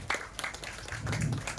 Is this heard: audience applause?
yes